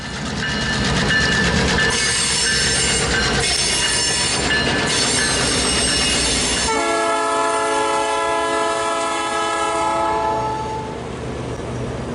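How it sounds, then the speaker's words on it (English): The Royal Canadian Pacific heritage train coasts into the railway town of Field on the Canadian Pacific main line, with loud rolling wheel noise and squeal giving way to a long sustained horn-like chord, no voices. "As the RCP coasts safely into Field"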